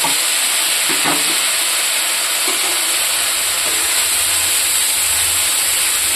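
Tomatoes and spice paste with panch phoron frying in a pan, a continuous loud sizzle and hiss with occasional faint stirring clicks.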